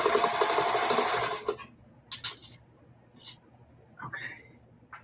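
A sewing machine back stitches a weekender bag in a loud, fast mechanical run lasting about a second and a half, followed by quieter scattered handling clicks and rustles.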